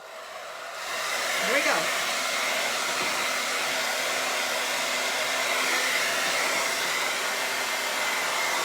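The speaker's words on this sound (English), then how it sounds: "We'll take the hairdryer to it quick" A hair dryer blows on fresh glue over a napkin-texture craft project, a loud steady whirring roar that starts after a moment and runs on without a break, with a brief spoken phrase near the start.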